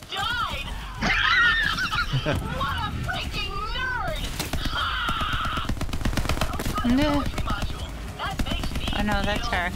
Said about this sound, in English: I'm shooting at Maya. No mercy!